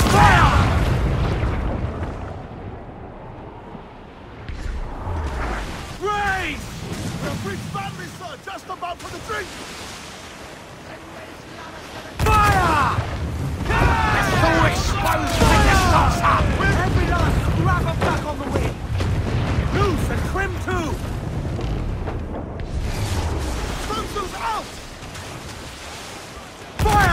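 Ship cannon fire and battle noise from the pirate naval combat of Assassin's Creed 4 Black Flag, with repeated booms over wind and sea ambience and shouted voices throughout.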